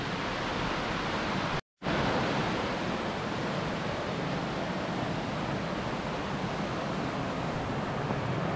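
A river rushing down through a valley gives a steady, dense roar of flowing water, close and constant, with a brief dropout near the start and no voices.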